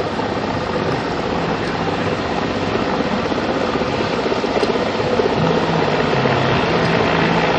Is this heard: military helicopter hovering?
yes